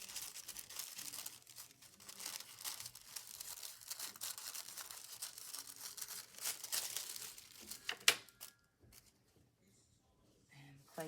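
Scissors snip and crinkle a small square of tissue paper beside a vintage Singer Spartan 192k sewing machine, a steady stretch of close, dry rustling and cutting that ends in a sharp snip and then near silence.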